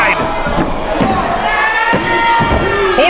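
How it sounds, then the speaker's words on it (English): A wrestling crowd at a street fight reacts with a loud roar and scattered shouts and cheers, close and continuous, mixed with thumps and voices. "The crowd here is horrified."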